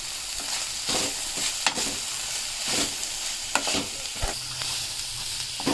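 Cluster bean curry with chili powder frying on medium flame, a steady sizzle with rhythmic scraping and knocking as a spoon turns the mixture in the pan, close and moderately loud.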